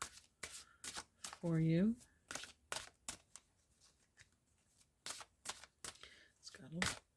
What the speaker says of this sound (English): I'm going to grab a mystical wisdom card